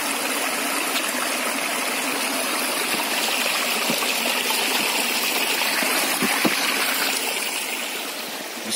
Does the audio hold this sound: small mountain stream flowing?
yes